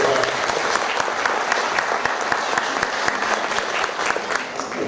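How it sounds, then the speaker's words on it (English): A theatre audience at a mono acting festival clapping steadily, a dense, even patter of many hands that fills the whole stretch without pause. "Big round of applause for"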